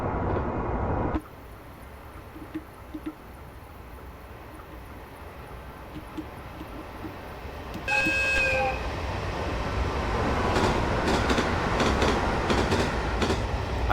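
Horn of a JR East 701 Series electric train in a railway simulation game, a short bright two-tone toot sounding once over steady rumbling train running noise that continues afterwards.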